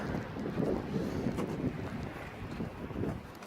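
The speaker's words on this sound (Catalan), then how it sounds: "fa molt vent" Strong wind blows across a snowy mountainside near the Vallter 2000 ski area, a steady broadband roar buffeting the microphone with gentle gusting swells and no voices.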